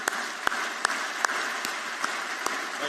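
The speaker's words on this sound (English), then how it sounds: "Let's have a round of applause for all these individuals." Large-hall applause at a spring university commencement ceremony at Auburn, a dense sustained clapping wash punctuated by a few sharper near claps at roughly regular intervals, with no speech over it.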